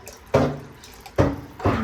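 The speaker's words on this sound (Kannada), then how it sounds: "ಅದಕ್ಕೆ ಇನ್ನೂ ಸ್ವಲ್ಪ ನೀರು ಆ್ಯಡ್ ಮಾಡ್ಕೊತಾ ಉಂಟು" Water pours in short bursts into a pot of thin sambar curry, three brief splashing gushes close by with quiet gaps between, and no voices.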